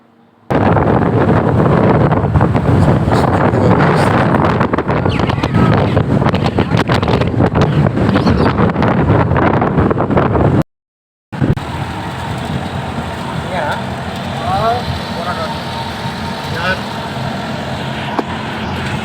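Strong wind buffets the microphone of a fast-moving vehicle on a four-lane road with a loud, continuous roar. After a brief cut, a softer, steady rush of road and wind noise continues with no voices.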